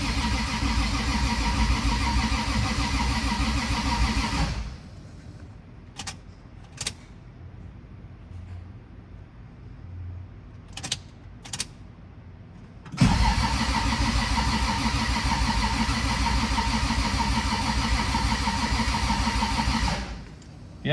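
A 2JZ-GE turbo engine in a Lexus IS300 cranks steadily without catching on its first start, stops, a few clicks follow in the quiet, then the starter grinds again for several more seconds.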